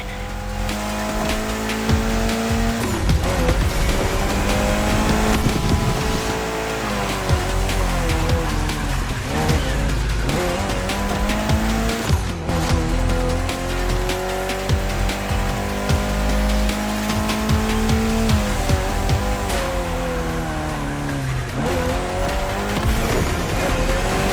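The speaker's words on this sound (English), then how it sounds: "your new ride, Toji's Mitsubishi Lancer Evo X." A Mitsubishi Lancer Evo X races in The Crew Motorfest video game, its engine whining up through gear changes in long rising sweeps, with tire squeals and skids throughout, loud and continuous.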